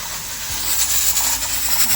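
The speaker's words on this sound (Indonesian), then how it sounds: "Guys, kalau panci presto lagi masak begini ya. Tuh, dia beruap." A pressure cooker hisses out steam while ketupat cooks inside, a steady close breathy rush that swells slightly and keeps going without a break, with no voices over it.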